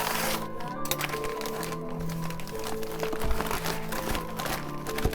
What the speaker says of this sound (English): Okay, that's just the wrapping paper.